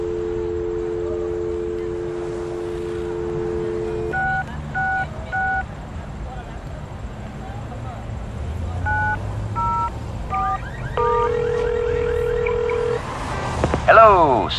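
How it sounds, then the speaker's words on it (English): A telephone in the Leisure Suit Larry Reloaded video game gives a steady dial tone, then a series of short DTMF keypad beeps, then a longer tone and rising electronic chirps, over faint background hum. "You pick up the phone, and to your delight, you get a dial tone."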